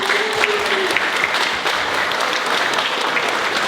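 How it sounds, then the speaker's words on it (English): Steady, dense applause from an audience at a university campus grand opening ceremony, loud and continuous throughout with no pauses, a faint brief tone near the start. "If we can give them all a round of applause."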